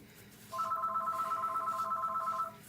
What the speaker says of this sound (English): I apologize for that phone ringing.